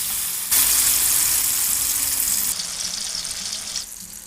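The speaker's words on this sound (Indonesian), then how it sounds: "Sekarang kita lanjut menggoreng sambal terongnya ini." Loud, close sizzling of eggplant sambal frying in hot oil, a steady crackling hiss that shifts in intensity as it is stirred.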